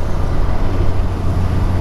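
A 2022 Suzuki Hayabusa inline-four motorcycle of about 1340 cc with a quick shifter being ridden, a steady loud low engine drone and wind rush throughout, with no voices.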